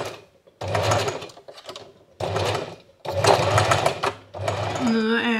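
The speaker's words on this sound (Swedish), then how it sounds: "På ena sidan av de här så kommer jag bara sy en rak söm rakt över så att de är stängda på ena sidan." A domestic sewing machine stitches a straight seam across fabric in several bursts of steady whirring, each a second or so long with short pauses between, close and loud; a voice speaks over part of it.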